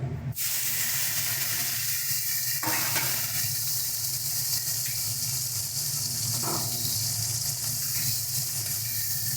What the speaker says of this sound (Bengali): দেখো তেলটা ভালো মতন গরম হয়ে গেছে এবার এতে দিয়ে দিচ্ছি আমরা শুটকি মাছগুলো